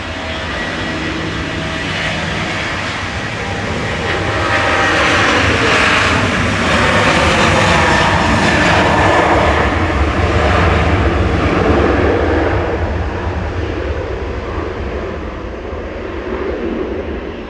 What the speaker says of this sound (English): 737-800 operating this flight this evening, a 12-year-old example with flight 819 back over to Casablanca